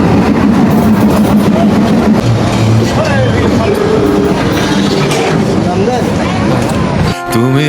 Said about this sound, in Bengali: দেখতেই পাচ্ছেন ট্রেনটি ছেড়ে আসছে চাঁপাইনবাবগঞ্জ রহনপুর রেলওয়ে স্টেশন থেকে রাজশাহীমুখী হয়ে